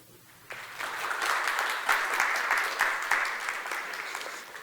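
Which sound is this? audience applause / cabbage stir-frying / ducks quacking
audience applause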